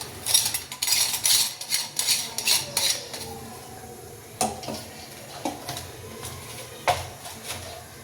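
Metal clinks and clatters as an oiled mesh disc is fitted into a gathiya press for making tikha gathiya, a run of quick close taps followed by sparser knocks.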